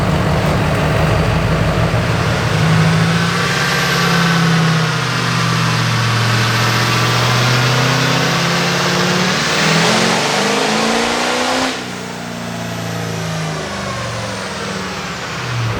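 The Minimax car's engine during a dyno pull, loud and close, holding a long rising roar with shifting tones before it falls back to a lower idle near the end.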